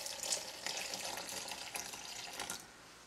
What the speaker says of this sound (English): I'm going to go ahead and add another cup of the liquid that this boiled in.